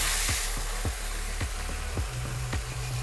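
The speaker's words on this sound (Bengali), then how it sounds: "শাকটা ঢেলে দিচ্ছি।" Jute leaves tipped into hot oil with dried chilies set up a steady soft sizzle. Scattered crackling pops and a low kitchen hum sit beneath it.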